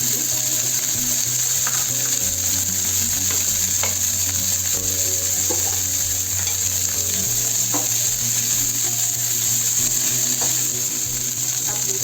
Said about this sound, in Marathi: आता मी गोबी घालून घेते। फ्राय करून घेते।